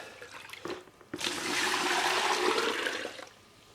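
Water pours out of a bucket in a workshop, a sustained rushing splash that swells after a short bump and runs steadily for about two seconds before tapering off, with no talking.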